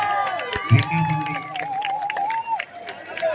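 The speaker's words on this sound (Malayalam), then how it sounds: "കാണികളുടെ കയ്യടിയാണ്." Spectators at a sevens football tournament match cheer and clap in a broad crowd wash, heard moderately from a distance while a commentator talks over it throughout.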